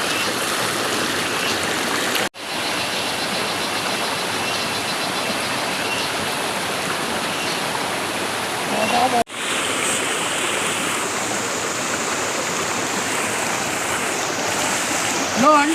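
Stream water rushes steadily close by on a rainy outing to Halehalla, a continuous loud wash of flowing water with two brief cuts in the recording.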